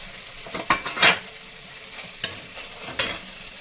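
Curry leaves, cumin and shallots fry in a pan for a chutney, with a low sizzle under several sharp scrapes and clinks of a spoon stirring against the metal.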